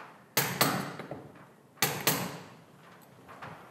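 Hammer knocking something into place: two pairs of sharp, close strikes a little over a second apart, with fainter taps and light handling noises between them.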